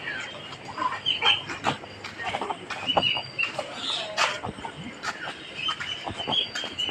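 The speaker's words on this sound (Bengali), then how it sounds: "এই যে গলা শিলা মুরগি" Naked neck chickens cluck and call in a busy backyard flock, their short sharp bursts coming close and overlapping one another.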